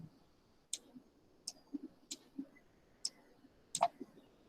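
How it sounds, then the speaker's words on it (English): Computer keyboard keys tapped in short, sparse clicks while typing in Notepad, about five distinct keystrokes spaced irregularly over a quiet room background. "I am typing inside the notepad."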